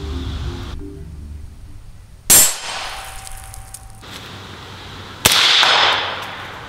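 Two hunting rifle shots crack sharply outdoors, a few seconds apart, and the bullet striking a steel target rings out with a metallic clang.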